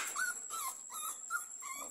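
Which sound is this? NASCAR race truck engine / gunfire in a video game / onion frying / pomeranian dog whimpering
pomeranian dog whimpering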